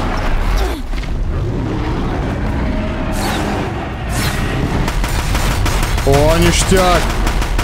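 Gunfire from a weapon in the video game Horizon Zero Dawn crackles in rapid bursts, loud and close, mixed with game effects and someone speaking over it.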